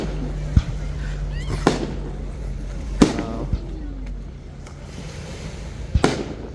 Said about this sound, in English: Welcome to the Value Village Fireworks.